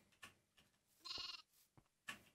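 An energized sheep in the Minecraft StoneBlock modpack bleats once, a short wavering cry standing out among soft clicks and faint game sounds, with a few brief noises around it.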